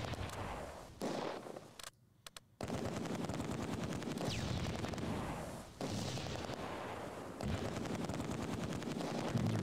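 PIAT anti-tank weapon firing amid small-arms fire in Close Combat 2 at Arnhem Bridge, dense loud crackling gunfire with heavy thuds and bursts, a brief gap near the start, then continuous battle noise.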